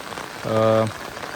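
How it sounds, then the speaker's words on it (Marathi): Steady monsoon rain falls continuously outdoors over farmland, an even wash of patter, with a short voiced sound rising briefly above it. "4 वाजल्यापासून पाऊस चालू आहे इकडे आणि आता 2 तास कंटिन्यू चालू आहे पाऊस."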